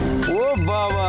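A mobile phone rings from a child's pocket with a loud, melodic ringtone of rising and falling tones, playing steadily under a voice.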